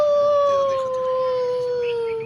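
A fox call sounds as a single long, clear, slightly falling howl-like tone, close and steady for about two seconds.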